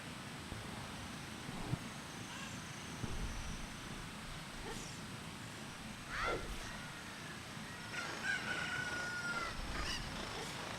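Rooster crowing in The Legend of Zelda: Ocarina of Time on Nintendo 64, a game sound effect heard over steady ambient game noise, with a rising call around the middle and a faint later cry.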